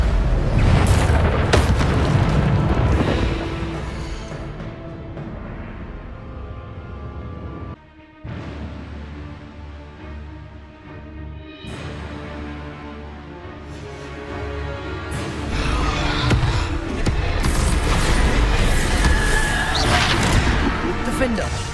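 Repeated Bombarda spell blasts in the video game Hogwarts Legacy, heavy booming explosions with rushing crackle, loud at the start and end with a brief dip in between, amid game sound.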